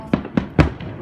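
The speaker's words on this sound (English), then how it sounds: "Here are the fireworks." Fireworks bursting near a house during a Fourth of July celebration, four sharp booms at uneven intervals, the third loudest and closest, with a fading crackle between them.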